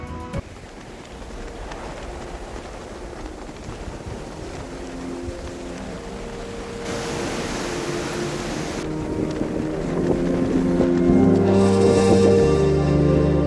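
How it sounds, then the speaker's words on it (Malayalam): Strong wind at a hilltop viewpoint in Attappadi buffets the microphone in a continuous roar, growing louder toward the end, with faint tonal hums underneath. "അതിശക്തമായിട്ടുള്ള കാറ്റാണ് ഇവിടെ വീശുന്നത്."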